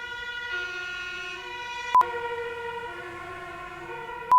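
A city ambulance siren sounds nearby, a sustained wailing tone that shifts pitch, broken by two brief loud bursts, with no speech.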